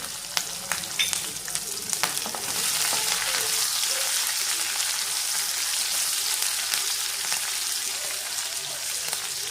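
Whole ginger pieces, garlic and green chillies fry in hot oil for a fenugreek greens dish, a bright steady sizzle with occasional stirring clinks, close and continuous, with someone speaking quietly at the start.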